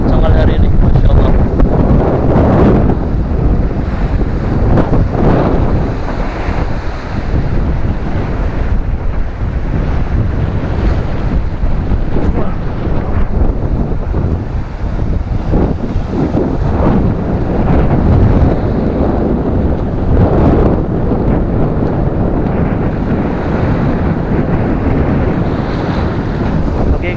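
Strong wind buffets the microphone over crashing surf at Seuru beach in South Aceh, a loud and constant roar with swelling gusts, while voices are faintly present underneath.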